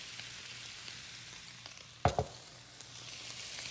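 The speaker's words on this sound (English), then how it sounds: "Now I'm going to add my rice. Cauliflower rice." Cauliflower rice dropped into a hot pan, a quiet steady sizzle with a couple of sharp clattering hits midway as it goes in.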